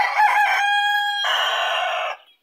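A rooster crows loudly and close by in a farmyard, giving one full cock-a-doodle-doo with a stuttering start, a held middle note and a long final call that cuts off cleanly.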